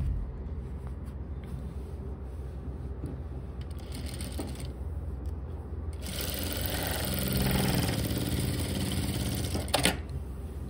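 A sewing machine stitches a pocket on formal trousers, its needle rattling in a fast steady run that grows louder and busier midway before a brief stop and restart, with no talk.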